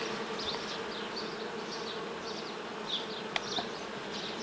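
Steady humming buzz of many honeybees at an open Alpine-style hive close by, continuous throughout with a few brief knocks and clicks.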